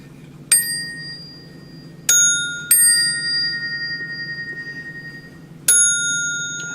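An old telephone's hammer striking its gong, four separate bright metallic rings, the third followed by a rapid trembling ring that decays slowly, close and alone.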